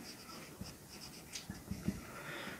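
Pen strokes writing numbers on paper or board during a math lesson, soft scratchy marks in a few short clusters, faint and close, with no talking.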